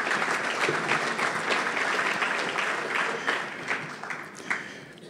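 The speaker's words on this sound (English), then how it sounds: "Give them a round of applause, please." Banquet audience applauding at a Labour Day dinner, a steady dense clapping that swells and fades slightly over five seconds, with scattered louder claps near the end.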